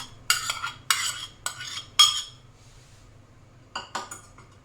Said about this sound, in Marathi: तर छानपैकी याला पूर्ण मिक्स होईपर्यंत यामध्ये परतून घ्यायचं आहे